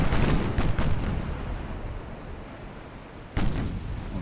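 Naval artillery fire in the Ultimate Admiral: Dreadnoughts video game, set in an 1890 war between Italy and France: heavy booming gun blasts open the moment, with another sharp blast near the end amid rumbling decay, no talking.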